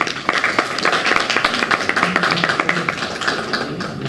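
An audience at a government event applauds, dense overlapping claps spread evenly through the room at moderate distance, with no break.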